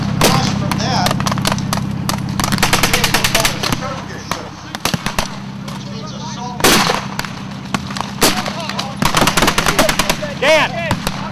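Gunfire at a WW2 battle re-enactment between American and German sides: loud, dense bursts of machine-gun and rifle fire crackling throughout, some shots close and sharp, with shouted voices mixed in.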